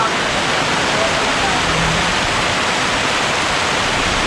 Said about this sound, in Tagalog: Inabot na naman kami ng ulan mga kabayan.